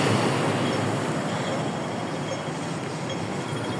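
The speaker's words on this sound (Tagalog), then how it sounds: "So ito yung mga tram guys oh. Mga small electronic train." A Hong Kong Island tram, a small electric streetcar, rolls past at Kennedy Town at the end of the line, a steady broadband rumble of wheels on rails that stays loud and close throughout with no talking.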